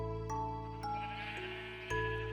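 Minecraft sheep in a Java Edition survival world let out several short bleats at close range over a steady droning game music background, alone with no talking.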